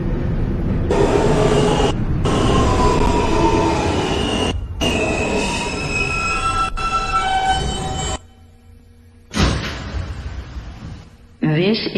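A Ditmars Boulevard-bound N train on the New York subway, running Broadway Local, rumbles loudly with a steady motor whine, broken by brief drops and sharp cut-outs near the end, while an announcement voice speaks.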